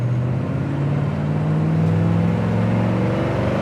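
A 1966 Chevelle Malibu V8 idles and runs steadily with a low, even exhaust rumble and a slight swell midway, close by and alone with no voices.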